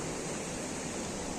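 The Juwa river flows along, a faint, steady rushing wash heard from a distance, continuous and with no voices.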